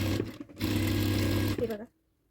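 A sewing machine stitches an aari work blouse in one short, close, steady burst of about a second, then stops, with a voice faintly present around it.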